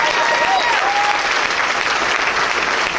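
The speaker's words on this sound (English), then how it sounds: "Let's give her another round of applause" Dense, steady applause fills a political gathering hall for several seconds, loud and even from start to finish, with a brief voice or whistle faintly above it early on.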